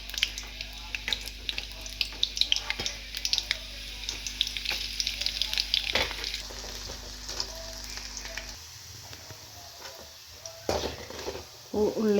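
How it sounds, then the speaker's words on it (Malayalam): Shallots drop into hot coconut oil and fry with a loud, crackling sizzle and scattered stirring clatter close by, the hiss easing slightly partway through, with no speech. "വെളിച്ചെണ്ണ ചൂടായി, നമുക്കതിലേക്ക് ചുവന്നുള്ളി ഇട്ട് കൊടുക്കാം."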